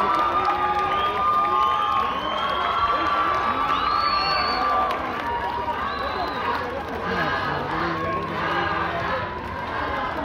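A live crowd at a charity show cheers, whistles and shouts, with applause mixed in, a dense steady roar that carries on throughout while a voice speaks over it.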